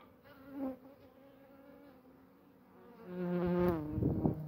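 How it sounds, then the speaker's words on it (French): A wasp sits on a finger and buzzes up close, a faint hum swelling into a louder, nearer buzz near the end, with no talking. "Et la guêpe là, sur mon doigt."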